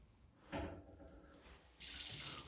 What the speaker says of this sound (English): I'm giving these guys a dish soapy scrubbing in my alchemy bathtub.